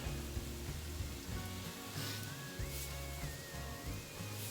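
Food sizzling in a hot pan on the stove while cooking with salt and pepper, a steady loud crackle and hiss running continuously with no talking.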